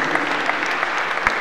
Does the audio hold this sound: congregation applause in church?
yes